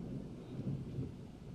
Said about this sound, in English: be fascinated by the storm